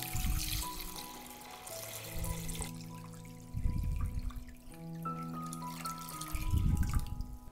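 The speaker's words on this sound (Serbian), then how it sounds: "Sipat ću vodu do visine poklopca." Water being poured into a cooking pot holding glass jars on a cloth, heard as close trickling and splashing in short bursts alongside tonal ringing, no talk.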